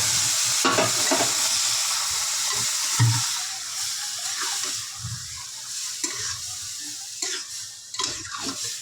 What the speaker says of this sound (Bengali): এবার আমি দিয়ে দেবো থোড়টা